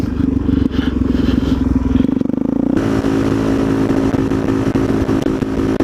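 A Suzuki DRZ400SM motorcycle engine runs close by, a loud steady throb with a brief shift around the middle before settling into a constant idle-like rumble, no voices present.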